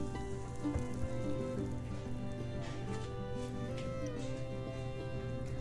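Butter sizzles and crackles steadily in a pan while a bechamel sauce gets started, a soft continuous hiss with no voices.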